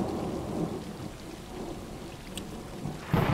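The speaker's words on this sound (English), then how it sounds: "I guess they're just all hiding out from the rain." Rain and rolling thunder in the video game Stray, a steady wash of rainfall with low rumbling underneath, moderately quiet and without talk.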